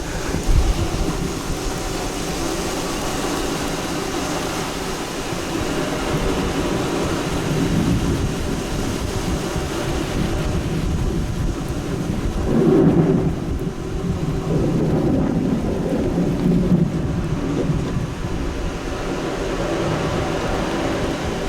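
A thunderstorm with steady rain falling and deep rumbles of thunder, including a stronger rolling peak midway, with no voices.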